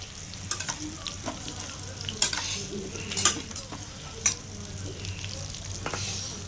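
Dried stingray fish frying in a pan with curry leaves, a bright steady sizzle with intermittent clinks and scrapes from stirring utensils against the pan, heard up close with no voices.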